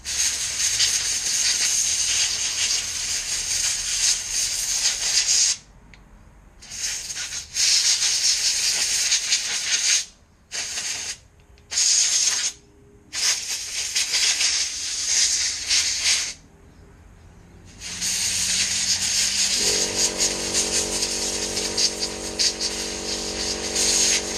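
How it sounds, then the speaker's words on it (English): Compressed air blasts hiss loudly over a small engine carburetor, several long bursts broken by short pauses and quick on-off puffs, then one final sustained blow. "always be mindful when blowing off your carburetor"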